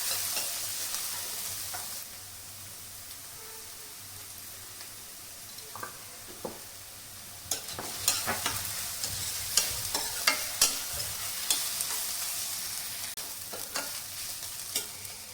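Ginger garlic paste fries in a pan with onions browned golden, a steady close sizzle joined later by quick scraping stir strokes and light ticks of a spoon against the pan, no voices.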